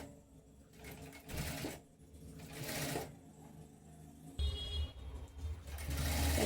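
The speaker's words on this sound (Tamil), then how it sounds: "தைச்சி முடிக்க போகிறேன்." A sewing machine stitching a straight-cut kameez, its motor whirring in bursts of rapid needle chatter with brief pauses, close and moderately quiet, a faint voice murmuring underneath.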